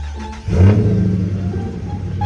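A 400 hp Dodge Challenger R/T engine is revved up to about 3,000 RPM during maintenance: a close, deep rumble surges and then holds steady at an elevated idle.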